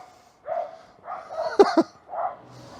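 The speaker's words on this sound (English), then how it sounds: "the sounds of noisy dogs" Several dogs bark and yip in a loose series of short bursts, one sharper bark standing out, heard at moderate distance.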